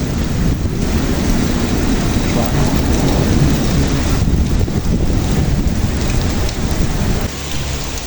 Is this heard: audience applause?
no